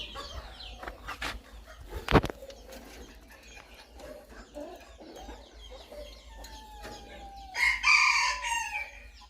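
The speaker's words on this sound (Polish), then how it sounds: "kurczaki piszczą, bo tam kura wyszła" Chickens peep and squeak in a coop during hatching season as a hen wanders out, with a sharp knock near the start and a louder burst of high chirping toward the end, no voices.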